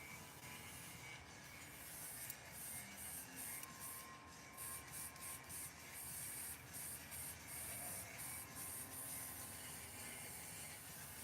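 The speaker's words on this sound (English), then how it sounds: "I'm just going to do a quick little test spray, make sure my airbrush is performing the way it's supposed to." A quick test burst from an airbrush before painting a bulldog skull, a steady soft hiss of spray with short breaks, faint and close, with no talking.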